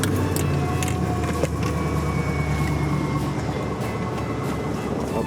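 A van being driven, with a steady low engine and road rumble filling the cabin and a constant, fairly loud drone that stays even throughout, with no talk.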